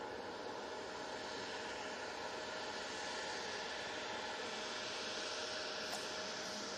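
A Jet2 airliner passing over Manchester Airport gives a faint, steady broadband roar, distant and unchanging throughout, with no talk over it.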